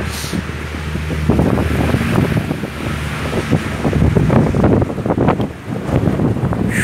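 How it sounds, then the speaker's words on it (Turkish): Strong wind gusts buffet the microphone outdoors during a daytime snowfall in Istanbul, a loud continuous rushing roar with rumbling low-end bursts, no voices. "Çok fazla rüzgar var."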